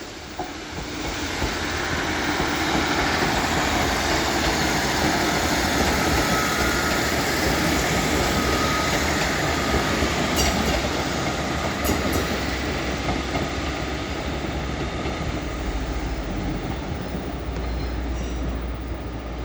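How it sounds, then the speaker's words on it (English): A Northern class 150 diesel unit, 150-005, pulls out of Leeds station, its engine and rolling wheels a loud, sustained rumble with brief squeals and clicks as it moves away. "And now departing is 150-005 with a northern service to Sheffield."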